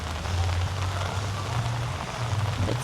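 Light rain patters at an outdoor plant market, a soft even hiss of drops with a low hum underneath, no voices.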